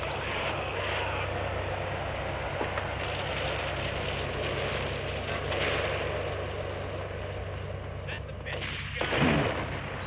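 Continuous rumbling roar of heavy engines with dull booming blasts from cars exploding in GTA Vice City on mobile, loud and steady, building to a sharper burst near the end.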